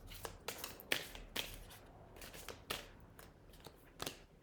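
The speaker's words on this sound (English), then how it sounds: "I'm going to give these a little shuffle" Quiet, close crisp riffling and soft slaps of playing cards being shuffled, in short irregular bursts.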